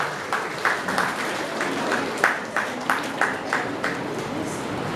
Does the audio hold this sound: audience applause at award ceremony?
yes